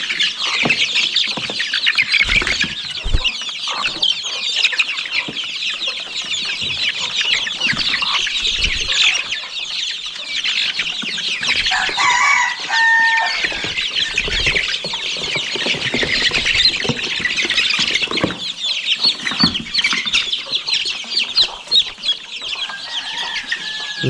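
Village free-range hens in a Konkan poultry yard cluck and squawk constantly. The busy chatter is close and steady throughout, with sharper calls now and then and no talking.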